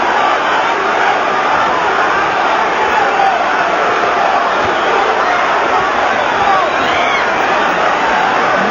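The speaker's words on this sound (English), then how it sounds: "The crowd here stunned by the early fury of this action." A packed boxing arena crowd at the Tyson versus Bruno fight keeps up a dense, loud, continuous roar of shouting and cheering for the whole stretch.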